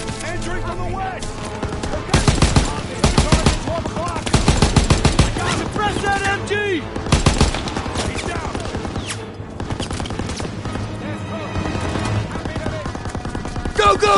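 Sustained machine gun fire and dense bursts of gunshots in a Call of Duty WW2 battle at Hill 493, heavy, near and continuous, with shouted soldier voices mixed into the din.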